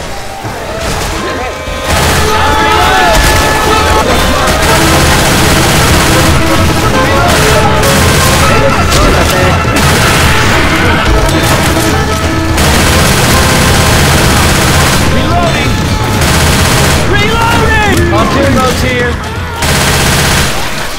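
Dense automatic gunfire in Left 4 Dead 2, loud rapid bursts and booming shots nearly nonstop with crashes and impacts mixed in, while players shout over the chaos.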